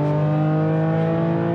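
A Porsche 911 Turbo S exhaust drones at a steady, loud pitch while driving, a smooth sustained engine hum with no variation over the short moment.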